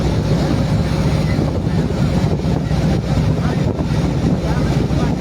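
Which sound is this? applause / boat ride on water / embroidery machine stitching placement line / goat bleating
boat ride on water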